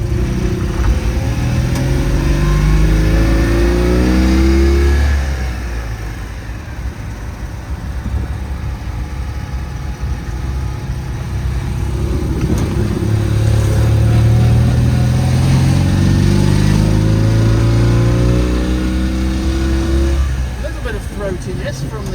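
A Crëtino Futility, a 2CV-based car built by a boat builder, driving along a road, its engine droning loudly and rising and falling in pitch through gear changes, close up, with someone talking over it.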